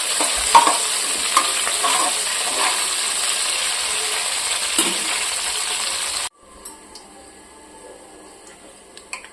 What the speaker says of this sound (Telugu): అందులోనే కరివేపాకు వేసుకోవాలి ఇవన్నీ మంచిగా ఫ్రై చేసుకోవాలి